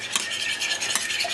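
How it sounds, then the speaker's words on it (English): Six eggs beaten by hand with a utensil in a bowl for pizzelle batter, a steady close scraping and whisking with brief louder strokes, no talk. "Let me beat my eggs. This is 6 eggs."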